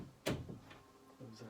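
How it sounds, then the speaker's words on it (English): An indoor door shuts with a single solid thump near the start, followed by quieter shuffling and faint room noise. "close that door"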